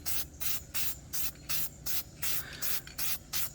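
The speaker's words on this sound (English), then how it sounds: "So I'm over here painting the bottom first." Short bursts of spray paint hissing onto the bottom of a homemade guitar pedal board, about nine evenly spaced puffs with brief pauses between, close and fairly quiet.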